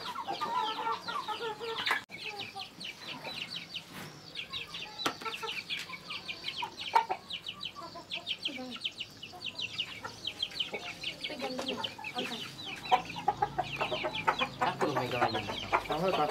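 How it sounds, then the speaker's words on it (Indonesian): Fighting-rooster breeding stock of the Bangkok breed cluck and call continuously at a farm, with overlapping bird calls and occasional wing flaps close by and steady across the whole span. "Ini indukan juga ayam jantan."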